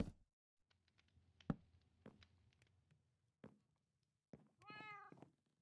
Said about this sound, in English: You heard the cat meow and you got a startle.